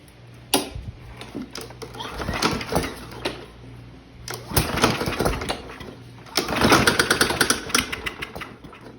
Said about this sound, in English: This probably has a broken flywheel key in it. It's firing at the wrong time.